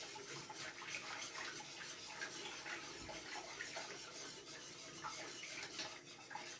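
A whisk swirls through seafood lasagna sauce in a pot, a continuous wet churning and faint scraping at low level throughout.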